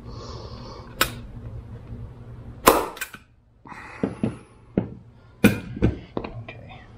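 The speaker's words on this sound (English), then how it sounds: "you're going to have to put a lot of pressure against the seat pan for the staple to go in it" A manual stapler snaps staples into a DR650 motorcycle seat pan, several sharp separate clacks spaced irregularly, with some handling noise between them.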